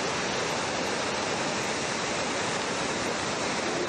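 Floodwater rushing through a flooded village, streets turned to torrents, heard as a loud, unbroken roar of churning water with no let-up or talk.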